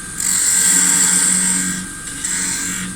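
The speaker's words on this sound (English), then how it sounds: "we're going to be using a parting tool then at the end of that measurement" A wood lathe spins a log blank while a parting tool cuts into it, producing a loud, steady high-pitched shearing whine that dips briefly and then resumes.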